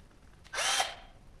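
Milwaukee cordless screwdriver drives a screw in one short, sharp motor whir that rises quickly and cuts off after about half a second, close and loud against a quiet room.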